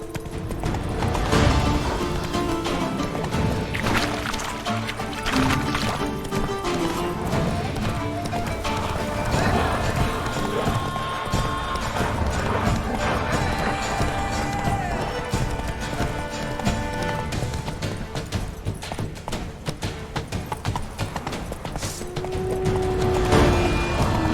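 Roach, a horse in The Witcher 3: Blood and Wine, trots along with a steady clip-clop of hooves. A voice talks over the hoofbeats, and some game sounds and clatter mix in.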